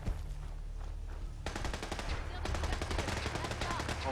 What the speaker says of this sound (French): Il y a un échange de tirs.